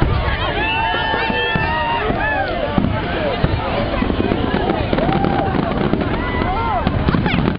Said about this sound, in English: Even more fireworks?